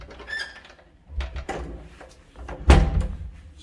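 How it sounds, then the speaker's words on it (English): A front door of a flat opens and closes with a clatter, a few close knocks and rattles, and a solid thud near the end. "Okay, so we're heading in through the front door."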